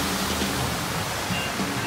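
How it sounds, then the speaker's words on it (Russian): A steady, loud rush of falling water pours continuously from fountain waterfalls in an empty outdoor plaza in Orlando, broad and unbroken with no voices. "Водопады работают."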